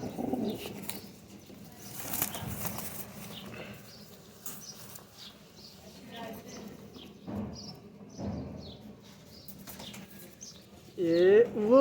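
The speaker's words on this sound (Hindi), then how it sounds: "ये कबूतर है" Fancy flying pigeons coo and flap their wings nearby, soft intermittent calls and fluttering bursts scattered over several seconds, with a louder burst of flapping at the end.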